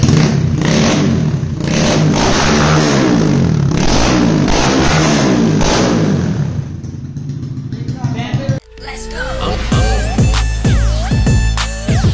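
A GPX Demon motorcycle, just back from a full master service, revs its engine loudly through repeated throttle surges, then changes to a different rising, whining engine tone toward the end.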